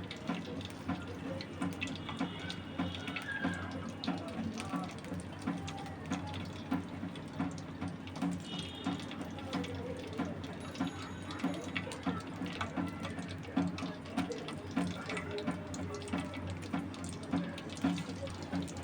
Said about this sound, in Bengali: এখন আমি এটা বাদামি বর্ণের করে ভেজে নিব